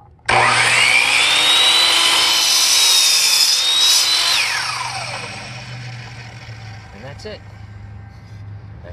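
A power saw makes a final cut through wood, a loud high-pitched whine that starts abruptly, holds steady for about four seconds, then winds down and fades with light clatter after the cut.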